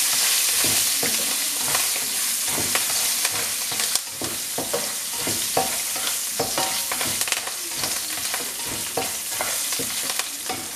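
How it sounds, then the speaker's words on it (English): Ingredients for rice dumplings stirred and mixed together in a sizzling pan, with steady scraping strokes over a continuous loud fry, no talking. "And you have to mix all these things together."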